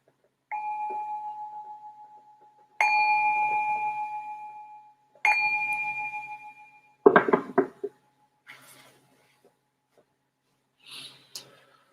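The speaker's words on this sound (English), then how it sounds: "I'm going to ring this bell to signal the start of the meditation." A meditation bell is struck three times at spaced intervals, each a clear, sustained ring that decays slowly in a quiet room, followed by a few soft knocks and rustles.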